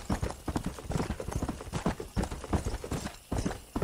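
Horse hooves clip-clopping at a steady walking pace in the video game Red Dead Redemption, a close, even rhythm of distinct hoof strikes.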